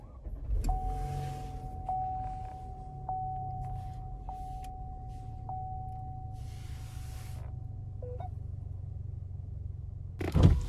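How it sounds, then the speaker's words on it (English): Power windows on a 2018 Buick Regal TourX lowering automatically inside the parked car, a steady electric motor whine lasting several seconds with soft clicks, ending in a louder thump. "All windows automatic down."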